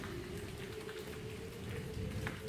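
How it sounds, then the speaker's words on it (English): Steady rain falls outdoors during stormy tornado-warning weather, a soft, constant patter that is faint and continuous, with no voices. "Mine was great, but guess what? It's raining."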